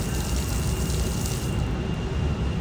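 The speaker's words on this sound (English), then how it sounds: "We're going to bleed the test cocks." Water bleeding from a test cock on a pressure vacuum breaker backflow assembly, a steady close hiss and gush of spraying water that runs unbroken throughout without pause.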